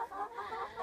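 Chickens in a large homemade backyard coop cluck softly, a few short murmuring calls in quick succession, fairly faint and close-by in a garden setting.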